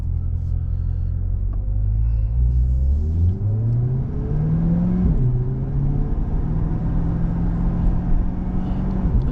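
A Chevrolet C8 Corvette engine rumbles steadily from inside the cabin while driving around town, its low drone rising and falling through gear changes and acceleration, loud and continuous with no talking.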